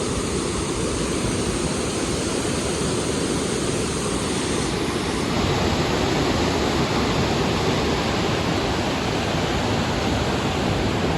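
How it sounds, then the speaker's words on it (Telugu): A forceful stream of water rushing steadily near a silk-worm farm outside Bengaluru, a dense continuous roar that stays loud and even throughout with no voices. "నీళ్ళ సౌండ్ వినొస్తుందా?"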